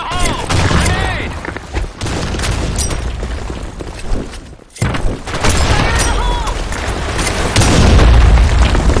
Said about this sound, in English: Fire in the hole! Fire in the hole! Grenade!